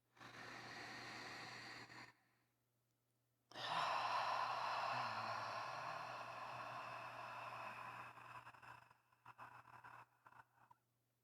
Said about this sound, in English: Big breath in through the nose, let it go through the mouth.